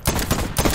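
Rapid bursts of gunfire from a gun in the video game Voidtrain, three or four sharp loud shots in quick succession over a low rumble, with no talking.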